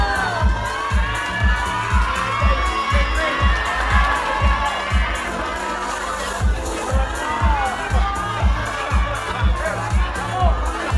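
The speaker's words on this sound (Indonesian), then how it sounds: "Tepuk tangannya Maria." A crowd cheers and claps for a high school class's act at a school arts show, with steady rhythmic clapping and shouting voices, loud and continuous throughout.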